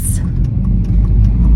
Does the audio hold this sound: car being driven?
yes